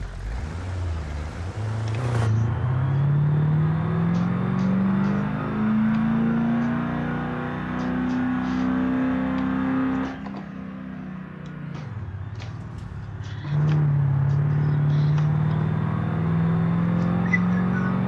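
A car engine in the driving game BeamNG hums loud and continuous, its pitch climbing slowly as it accelerates, then dropping sharply before rising again, with no talking.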